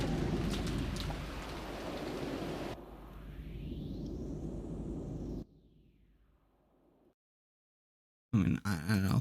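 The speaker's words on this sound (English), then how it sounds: "I feel like this rain sound has been a bit too loud" Steady, heavy rainfall from the game Umineko no Naku Koro ni, a dense hiss that drops to a quieter wash, then cuts to silence before a brief loud burst at the end.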